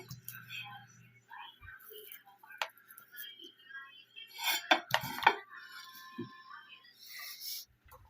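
Dishes, pots and cutlery clink and clatter in a home kitchen during cleanup after cooking dinner, with scattered light taps early and a denser burst of sharp metallic clanks near the middle, close and moderately loud.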